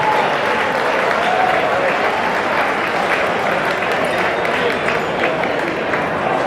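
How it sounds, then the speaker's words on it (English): Big round of applause at a charity event welcoming the host, a loud, sustained wall of clapping from a large room with a faint murmur of voices beneath. "if you would please give a big round of applause for your host"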